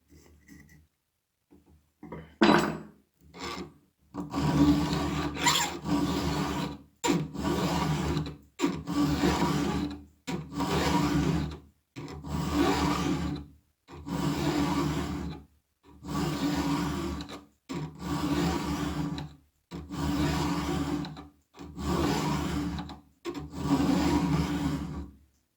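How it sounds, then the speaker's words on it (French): A flat file sharpens a chainsaw chain cutter tooth in about a dozen steady, evenly spaced rasping strokes, each with a short pause between, close and fairly loud. No speech. "cette gouge que je viens d'affûter à la lime triangle"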